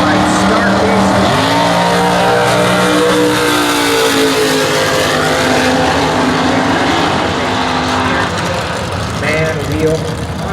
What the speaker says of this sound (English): John LaBoose, dragster with the wing on the Summit side, and Dave Scaluto.